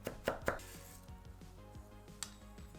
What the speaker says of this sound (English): Mince the garlic.